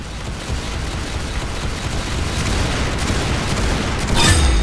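Rapid gunfire bursts from a shooting video game crackle steadily across the clip, dense and continuous, with a heavier boom-like burst near the end.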